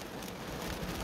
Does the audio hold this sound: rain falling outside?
yes